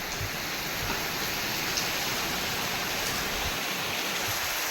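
Heavy rain falls steadily outside a home, a dense, even hiss that holds without pause for several seconds and has no voices over it.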